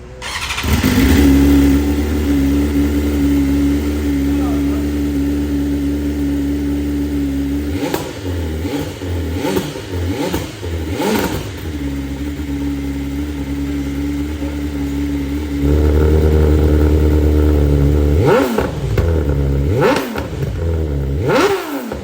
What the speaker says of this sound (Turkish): Arkadaşlar motoru bir çalıştıralım. Sesli, sessiz versiyonlarını bir duyalım.